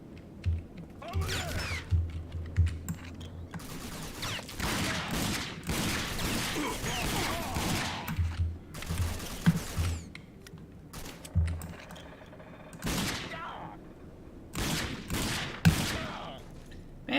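Gunfire rattles through a firefight in the shooter game Rage, with scattered bursts and single cracks spread unevenly over the stretch, broken by mechanical clanks and pauses, at moderate loudness.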